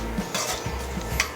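A utensil stirs and scrapes a pan of pumpkin seeds, roasted corn, bacon and heavy cream, giving soft repeated clinks and scrapes over a faint sizzle.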